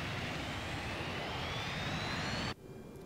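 Tupolev Tu-154 jet engines in Microsoft Flight Simulator 2020 spool up to takeoff throttle, a loud, steady broadband roar with a rising whine that cuts off abruptly near the end, leaving a quieter hum.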